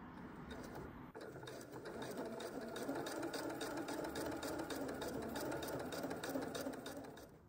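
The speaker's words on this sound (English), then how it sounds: "And now I'm going to top stitch around the hole." A sewing machine runs steadily while top stitching around an opening in a fabric machine cover, its rapid needle chatter close and continuous after a brief pause at the start.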